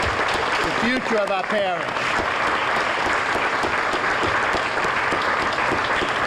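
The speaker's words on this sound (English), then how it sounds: "How about a round of applause?" Guests at an American Legion Teenager of the Year awards banquet in Terrebonne Parish applaud the standing nominees, loud sustained clapping from a large crowd that follows someone speaking briefly at the start.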